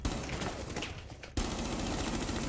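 Rapid automatic gunfire in Rainbow Six Siege, a dense burst of shots up close that cuts off abruptly, then a sustained loud crackle of fire continuing without pause.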